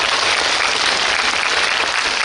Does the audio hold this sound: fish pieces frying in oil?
no